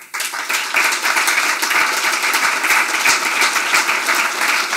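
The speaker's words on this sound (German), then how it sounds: "Applaus" An audience at a Greens political talk in a Ludwigsburg museum breaks into dense, steady applause, a broad wash of many hands clapping together that holds evenly at full strength for several seconds.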